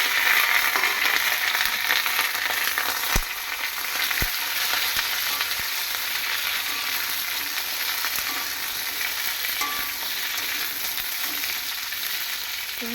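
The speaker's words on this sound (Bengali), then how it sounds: "বেগুনগুলোকে আগে ভেজে নিই তারপরে মশলাটা দিয়ে কষিয়ে নেবো" Eggplant pieces fry in hot oil, a dense continuous sizzle with a few sharp knocks as they are stirred, close and steady with no voices.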